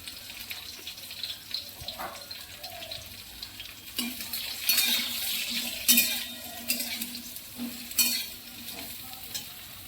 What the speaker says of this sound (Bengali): বেগুন আলুটা তেলের মধ্যে একটু ভেজে নেব।